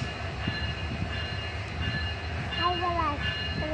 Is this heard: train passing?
yes